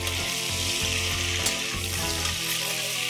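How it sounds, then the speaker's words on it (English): Mutton sautés on a high flame with a loud, continuous sizzle and occasional stirring clatter close by, and no one speaking. "The reason to fry this mutton on a high flame is that the juices and the moisture of the meat gets retained in the meat itself."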